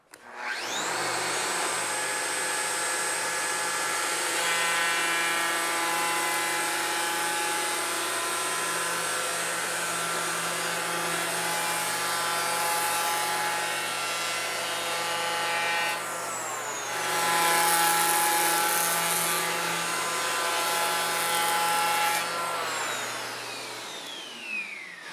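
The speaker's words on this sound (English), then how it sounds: "I can hold the depth control handle right here and just ride this plane right across the edge of the door." An electric power plane cuts steadily along the edge of a new door being fitted to an old jamb, a loud continuous motor whine with a brief dip and surge partway through, then spinning down, no talking.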